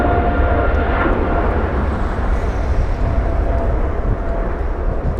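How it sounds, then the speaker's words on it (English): An Air France airliner takes off at Los Angeles International Airport, its jet engines a loud, steady broadband roar that fills the whole stretch without a break. "Very early rotation there by Air France"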